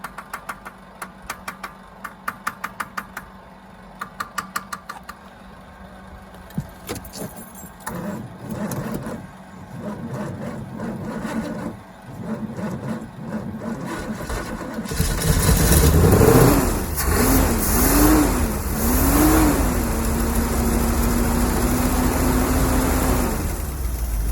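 A C3 Corvette engine, a barn find sitting for 23 years, cranks in short repeated bursts, then catches and runs roughly, rising into uneven revs that swell and fall close by.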